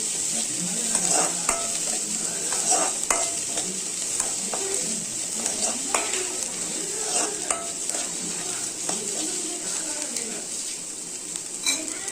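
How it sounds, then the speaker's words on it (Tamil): Green chilies and curry leaves sautéing in a pan for an egg stir-fry, a steady bright sizzle with frequent clicks of a spoon stirring against the pan, moderately close and continuous. "பச்சை மிளகா போட்டுக்கலாம் அதுக்கப்புறம் கருவேப்பிலையும் போட்டுக்கலாம் நல்லா வதக்கிக்கலாங்க"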